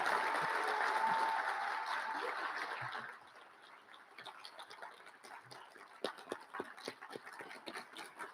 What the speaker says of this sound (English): So please all give these people a round of applause for their hard work and effort.